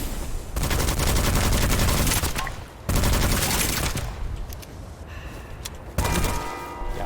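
Gunfire in the Witchfire video game comes in dense bursts and volleys over about seven seconds, with short pauses, sharp impact thuds and loud close-range shots.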